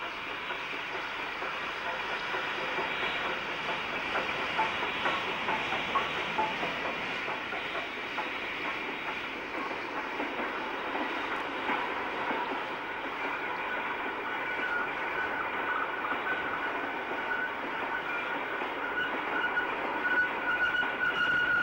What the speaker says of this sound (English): Following the WD is Q6 63364 of Thornaby in its last year of service, with a magnesite train from Ferryhill